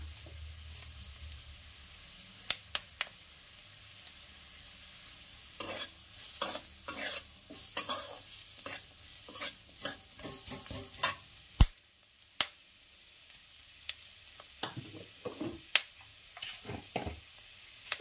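Fresh curry leaves going into simmering sambar dal made with split peas, short crackling sizzles and stirring scrapes in scattered bursts, fairly close and moderate in volume, with no talking.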